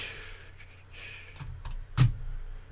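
Computer keyboard keys and mouse buttons clicking for shortcuts during music production, a few crisp close taps and one heavier click, with no talking.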